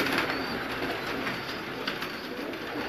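A deep-eyed show pigeon, a "35" type, gives soft low coos amid a steady close wash of ambient noise, with a faint flutter at moments.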